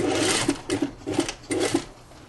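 A sewing machine stitches a hem on a shirt-tunic in several quick rhythmic bursts of needle clatter, close and fairly loud, with brief pauses between runs and no talking.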